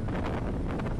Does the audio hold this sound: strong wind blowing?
yes